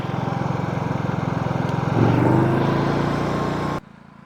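Genmax GM9000iED 9000-watt generator running with eco mode off, a steady close engine hum with a rhythmic pulse that swells slightly around two seconds in, then cuts off abruptly near the end.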